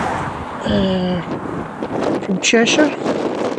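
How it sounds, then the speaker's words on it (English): Strong gusty wind buffets a microphone at the roadside of the A75, a steady broad roar under a voice, with brief vehicle and tonal sounds passing nearby. "you can hear the wind's doing its best to blow me over."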